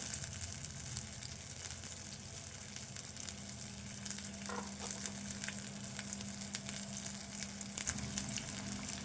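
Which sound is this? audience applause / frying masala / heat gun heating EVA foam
frying masala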